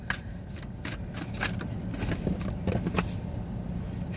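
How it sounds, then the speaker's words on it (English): An oracle card deck is shuffled by hand, with repeated papery riffles and soft card slaps in a loose, uneven rhythm close by, and no speech. "So I'm just going to pull some cards to see what comes out."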